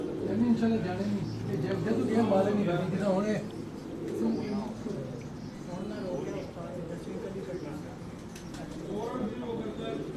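Pagal Topi breed pigeons at a breeder's loft, soft repeated cooing close by, mixed with shuffling and handling noise while someone speaks over it.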